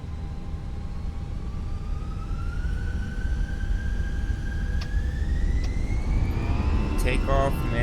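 An airliner accelerates for takeoff in a flight simulator, a steady engine roar with a rising turbine whine that climbs in pitch throughout, with a few brief clicks toward the end.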